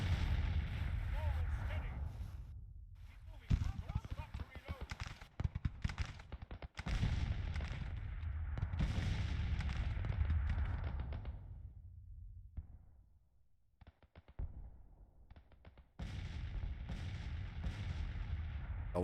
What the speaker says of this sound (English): But guns are doing good work.